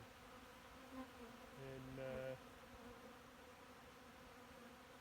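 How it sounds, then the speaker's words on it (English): A steady background buzz of many bees in a yard, faint and continuous, with a brief louder tonal drone swelling in the middle. "that's just crazy, the amount of bees in there"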